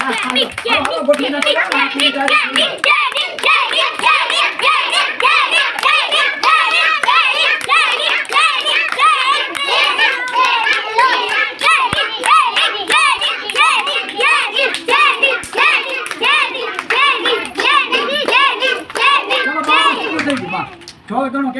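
A group of children claps hands in loose rhythm amid constant excited chatter and shouting from the kids and an adult, all close and lively throughout.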